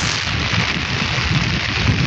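Heavy rain falling outdoors, a dense continuous roar of water across the whole span, loud and close, with no voices.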